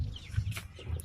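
A sick chicken with a twisted neck gives short, close clucks in a quiet setting, a few soft bursts over low background noise.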